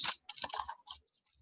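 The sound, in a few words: cutting paper masks apart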